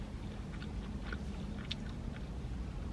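Someone chews a Taco Bell crunchwrap close to the microphone, with soft wet mastication and a few faint crunches repeating over a low steady background hum.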